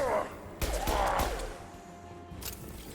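Gunfire rings out in the video game Mass Effect during a fight with Krogan: a few sharp shots close together, then a quieter stretch and one more burst.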